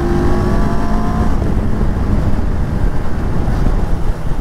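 A 2023 CFMOTO 650 NK roadster accelerates on a road, its engine drone buried under loud, steady wind rush from riding at speed.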